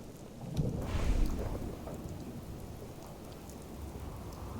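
Steady rain patters in the video game Fallout 4, with a low rumble of thunder swelling early on before the downpour continues alone.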